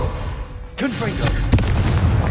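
A Confringo explosion spell in the Hogwarts Legacy video game goes off as a sudden loud burst partway through, then a second sharp blast follows with a rumbling tail, and game voices and effects sound around it.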